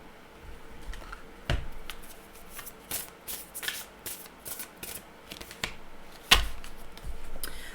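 Oracle cards being shuffled by hand in a quiet room: soft riffling and shuffling, broken by several sharper slaps and taps as the deck is handled.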